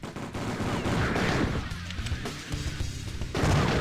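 A light gun arcade-style video game plays dense, continuous gunfire effects, with rapid bursts and crashes layered over a loud game soundtrack throughout, and no talking.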